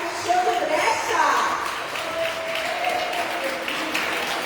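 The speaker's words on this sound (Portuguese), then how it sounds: "uma salva de palmas" A church congregation breaks into applause after the pastor's call, a steady wash of clapping at moderate distance with voices mixed in.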